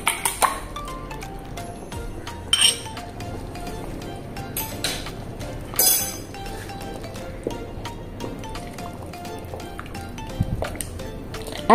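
Beaten egg is stirred by hand into chicken soup in a bowl, making soft sloshing. Scattered clinks of a utensil against the dish come and go throughout.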